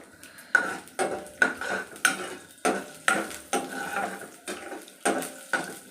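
Ginger, garlic, black pepper, cinnamon, fennel and cloves fry in a pan while a spoon scrapes and stirs them in regular strokes about twice a second, close and clear over a soft sizzle, with no talking.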